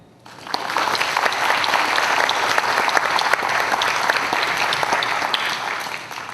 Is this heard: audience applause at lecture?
yes